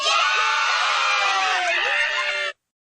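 Loud crowd of children cheering and screaming in a Simpsons episode as Springfield Elementary closes, a sustained high-pitched roar of many young voices that cuts off abruptly after about two and a half seconds.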